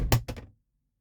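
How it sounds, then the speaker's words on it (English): Door of a 2024 Kawasaki Ridge Limited UTV closing: a close, solid double thunk as the sealed cab door shuts, then silence. "I'm going to close the door."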